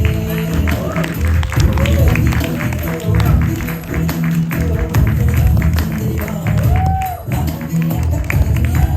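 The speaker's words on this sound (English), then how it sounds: "So give her a big round of applause." A crowd at a desi stand-up comedy charity show applauds a comedian, the loud, dense clapping and cheering mixed with murmuring voices and a brief whistle-like tone.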